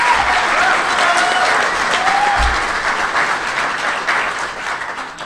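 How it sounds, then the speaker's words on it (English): Sustained audience applause fills a convention hall at a DC Comics Batman panel during Emerald City Comicon 2014, dense and steady throughout, fading slightly toward the end. "So give yourselves a round of applause."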